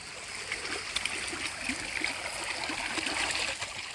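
Deep, fast water rushes steadily along an acequia irrigation ditch, a constant close-up gurgling wash with no break throughout.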